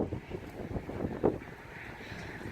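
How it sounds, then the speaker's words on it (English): Gusts of wind buffet the microphone in a steady low rumble, with brief louder puffs, outdoors and close. "It's really windy."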